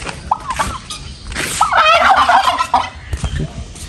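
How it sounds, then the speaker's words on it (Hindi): A farm turkey gobbles at close range in one loud, warbling burst midway. Softer clucks and rustling come before and after it, and there is no talk. "ये भाई इसको टर्की बर्ड बोलते हैं।"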